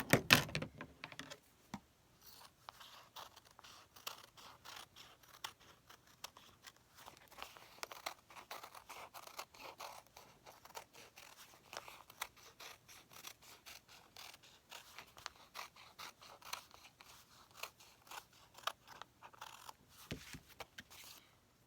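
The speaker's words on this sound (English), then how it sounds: "And now what I'm going to do is simply cut it out on the line." Scissors cut fused fabric circles along a marked line, producing a quiet, steady run of small snipping and crunching clicks close up, with no talking.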